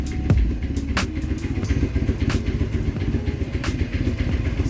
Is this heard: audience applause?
no